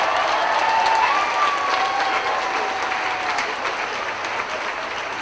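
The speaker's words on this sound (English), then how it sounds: "Would everyone now join me in a warm round of applause for all these future Trojans among us today?" A large crowd at a university commencement ceremony gives a warm, sustained round of applause, dense and steady, easing slightly toward the end.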